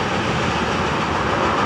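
A Florida East Coast local freight train made up of boxcars and hoppers rolls past close by, a loud, continuous rumble and rush of wheels on rail with no speech.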